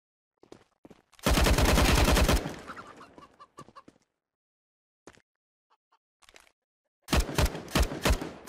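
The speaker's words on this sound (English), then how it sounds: "you shouldn't be shooting me in warm-up" Gunfire in the video game Counter-Strike: Global Offensive, a loud rapid burst of shots, scattered single clicks and taps, then another quick volley of several shots at the end.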